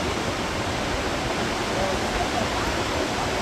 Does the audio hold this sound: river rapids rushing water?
yes